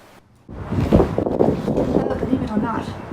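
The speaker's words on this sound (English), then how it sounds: "Look at the wind here. That's pretty crazy." Strong gusts buffet a Hilleberg Nammatj 2GT tent, a loud rushing roar with flapping fabric that starts abruptly and keeps up close to the microphone.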